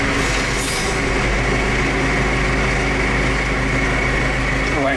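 A tractor engine running steadily on the way to mow a hay field, a loud, constant droning rumble with a buzzing tone, heard close throughout with no pauses.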